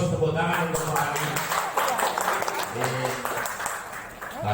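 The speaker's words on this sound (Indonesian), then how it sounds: "Kita beri plus tepuk tangan untuk Pak Ali" Clapping for Pak Ali at a gathering, steady and fairly loud through the clip, mixed with voices and other sounds.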